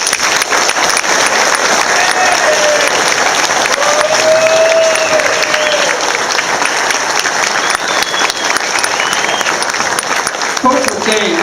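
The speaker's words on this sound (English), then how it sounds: "we need to give him a big round of applause for his effort" Applause from the audience at a high school booster club meeting, steady clapping lasting around ten seconds with some crowd noise and voices mixed in.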